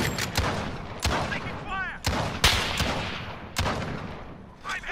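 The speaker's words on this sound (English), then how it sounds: "Oh yeah, the shot, the sniper." Sniper fire in Call of Duty Modern Warfare on the Docks map: sharp single shots at irregular intervals, loud and close, over game ambience with a voice faintly present.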